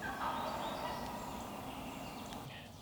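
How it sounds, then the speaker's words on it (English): A young wild turkey jake gives a short yelp and a half gobble at its roost tree on a morning turkey hunt, a fairly loud call that fades over a couple of seconds. "he kind of does a little Jake yelp,"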